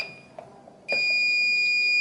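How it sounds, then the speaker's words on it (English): A house door alarm suddenly starts a loud, continuous high-pitched electronic tone after some quiet handling noise, sounding steadily to the end. "sets the alarm off. It's an alarm."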